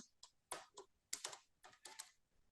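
Keys clatter on a computer keyboard as a surname is typed into a record form, a close, quiet run of about eight quick clicks in short bursts, with no voices.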